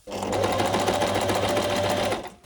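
A sewing machine stitching steadily at high speed, a fast even whirring rattle that starts abruptly and runs for about two seconds before stopping.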